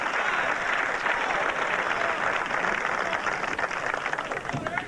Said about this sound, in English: the appreciative crowd here in Toledo at the National Championship